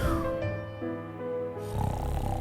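A snoring sleeper in a children's story about a hungry hamster, drawn-out rasping breaths with a low buzzing rattle, close and steady, likely a voice imitating the snore.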